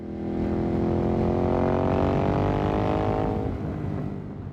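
A Ducati Monster motorcycle engine accelerates, its tone climbing steadily in pitch as the revs build, loud and close, then easing off near the end; no one speaks.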